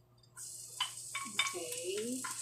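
Garlic and onion fry in a pan in a small home kitchen, a soft hiss that starts suddenly with faint stirring clicks and scrapes, and a quiet voice comes through underneath.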